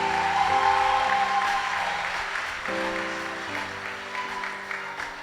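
Church congregation applauding together at an Easter service, a broad sustained wash of clapping that swells and carries on over organ or keyboard chords held underneath.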